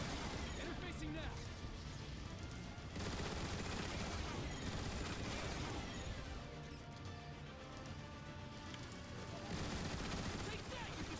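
Turret gun emplacements fire at Decepticon seekers in the Transformers: War for Cybertron video game. Loud, dense bursts of rapid gunfire and crashing impacts run almost continuously, with brief breaks and game voices in the mix.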